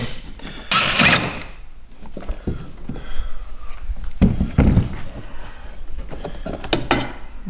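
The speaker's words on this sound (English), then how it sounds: "I'm going to remove this cover and the accessory I have on there" An accessory cover coming off a Hobie Pro Angler kayak, with knocks, plastic scrapes and a few sharp thumps as parts are handled, spread unevenly through the stretch with no talking.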